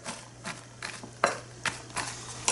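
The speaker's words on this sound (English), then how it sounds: "I'm going to mix all this together in my bowl here." Baked bean ingredients and spicy mustard being stirred together in a bowl, with soft scraping and several clinks of a utensil against the bowl in an irregular rhythm, close and moderately quiet.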